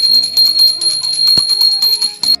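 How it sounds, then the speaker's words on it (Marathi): A small hand bell rings repeatedly in quick, steady shakes during an Akshaya Tritiya puja, bright metallic tones close by, with a couple of duller knocks mixed in. "घंटी वाजवायची"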